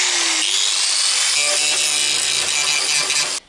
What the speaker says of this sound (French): je vais juste meuler l'excédent de soudure